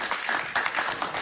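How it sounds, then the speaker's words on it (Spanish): A short burst of applause from a small television talk show audience, many hands clapping at once, close and lively. "Un aplauso para Dionisio."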